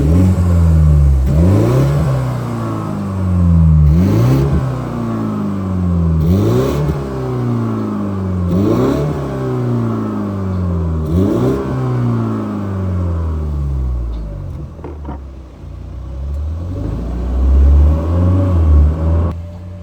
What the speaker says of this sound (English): This makes even great noises when it starts.